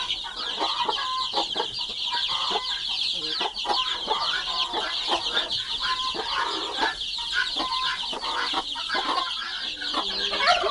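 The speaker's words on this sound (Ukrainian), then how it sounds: "Такі курчатка тут." Broody hens with a brood of young chicks on a farm, clucking in quick irregular bursts over a constant high peeping from the chicks, close and fairly loud with no talk.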